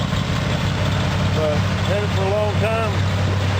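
A 1978 Jeep CJ7 with a 304 V8, bumper cam and dual exhaust idles close by with a steady low rumble, while someone talks over it.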